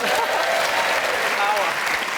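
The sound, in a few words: audience applause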